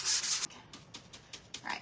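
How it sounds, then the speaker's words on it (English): Soft, brief strokes of light hand sanding rasp in a loose rhythm after an initial louder rub, quiet and close. "I'm gonna sand in between my coats"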